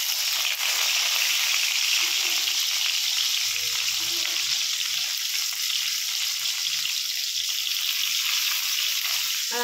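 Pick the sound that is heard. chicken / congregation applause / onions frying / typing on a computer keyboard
onions frying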